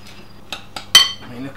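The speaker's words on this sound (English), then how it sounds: "Just mix it together." Crumbled cheese is stirred into a bowl of butternut squash filling, giving a few light clinks and scrapes of a utensil against the bowl, then one sharper knock, close and brief.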